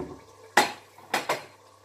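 Dishes and cutlery clink while pork stew is plated in a home kitchen: one sharp clink followed by two quick knocks, close and fairly quiet, with no talk.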